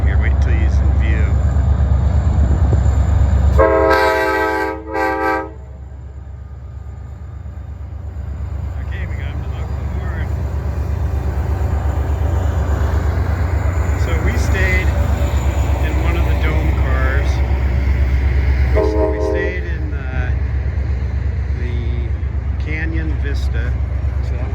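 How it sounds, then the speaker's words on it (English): A Royal Gorge Route train blows its horn in a loud blast of several seconds, heard outdoors near Tunnel Park Trail Head over a steady rumble of the passing train, then fainter horn notes follow later. "Let's see if we can get him to honk the horn here."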